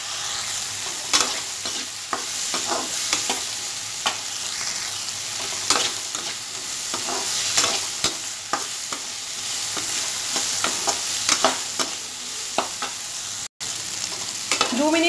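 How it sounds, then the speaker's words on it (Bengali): Vegetables fry over a high gas flame while a spatula keeps stirring them, producing a loud continuous sizzle punctuated by frequent sharp scrapes and clacks, with one brief dropout near the end. "গ্যাসটা বাড়িয়ে আমি 2 মিনিটের মতো জিনিসটাকে একটু ফ্রাই করে আগে নেব"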